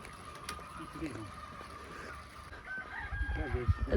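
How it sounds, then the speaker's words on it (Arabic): Rooster crowing and chickens clucking outdoors in the countryside, faint and distant under steady wind or water ambience, with people speaking nearby toward the end. "الدجاج."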